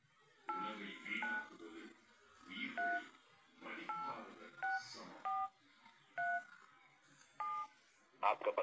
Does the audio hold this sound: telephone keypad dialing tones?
yes